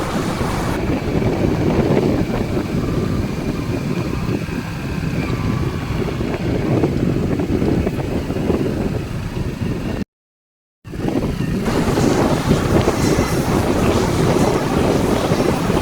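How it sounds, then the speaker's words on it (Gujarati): Strong cyclone wind roars steadily into the microphone, with a rushing, buffeting noise that cuts out briefly before returning just as loud. "જોઈ શકો છો વાયરો અને વાવાઝોડું હજી પણ છે"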